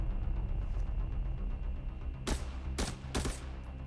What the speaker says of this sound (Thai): ในขณะที่เพื่อนกำลังยิงอยู่นะครับ